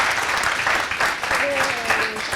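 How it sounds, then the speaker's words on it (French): A crowd claps together in a dense, steady patter while voices murmur underneath. "On va applaudir pour ce commentaire."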